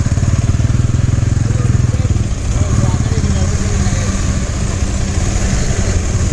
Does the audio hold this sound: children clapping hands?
no